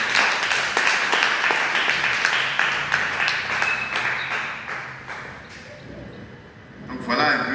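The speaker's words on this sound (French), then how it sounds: "Est-ce que tu peux donner une acclamation au Seigneur?" A church congregation applauds and cheers in acclamation to the Lord, a dense, steady wash of clapping with voices mixed in, easing off toward the end before a brief final burst.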